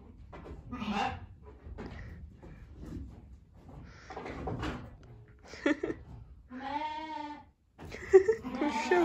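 A sheep bleats once, loud and wavering, near a village barn amid shuffling, rustling noises and other scattered animal sounds nearby.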